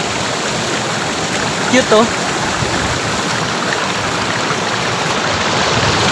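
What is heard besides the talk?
small waterfall at Talon Pari Falls, Bulacan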